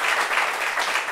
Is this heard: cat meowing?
no